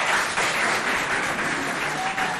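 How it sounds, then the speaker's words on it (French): Students in the audience of a school quiz contest between lycées in Sarh applaud with a steady, moderately loud wash of clapping that holds for a couple of seconds. "On applaudit."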